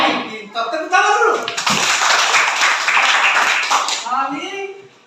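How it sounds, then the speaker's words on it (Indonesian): A group of schoolchildren in a classroom clap their hands together in a burst of rapid applause lasting a few seconds, framed by a teacher speaking before and after. "Tepuk tangan dulu."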